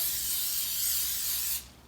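Cooking oil spray greases a loaf pan in one continuous close hiss that stops abruptly near the end.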